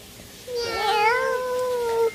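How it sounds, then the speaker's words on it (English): A cat gives a single drawn-out meow at close range, rising then holding steady for about a second and a half against quiet background hiss. "Let me see this kitty."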